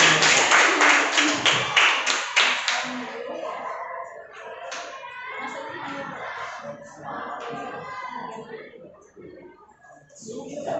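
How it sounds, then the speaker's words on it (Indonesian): A classroom breaks into brief, lively clapping for a student volunteer, a burst of applause lasting a few seconds before voices take over and talking fills the rest. "Kasih aplaus dulu biar dapat semangat"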